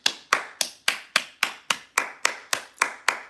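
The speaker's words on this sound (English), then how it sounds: "Can I get a round of applause" About a dozen sharp, evenly spaced hand claps, each one crisp and loud, repeating at a steady beat during a live stream with no talking over them.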